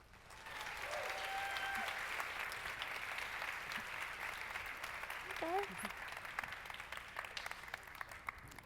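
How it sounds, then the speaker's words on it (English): A keynote audience gives a warm round of applause, sustained clapping that swells in and carries on for several seconds with some murmured voices and a brief sound in the middle. "please give a warm round of applause to Katie Warner-Johnson and Jennifer Lapka"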